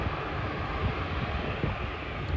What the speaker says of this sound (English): 747 cargo taxiing.